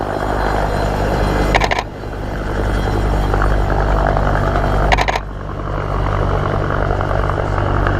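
A Whirlwind helicopter runs at Yeovilton, its engine and rotor making a loud, steady drone, broken twice by brief sharp bursts of noise, with no talking.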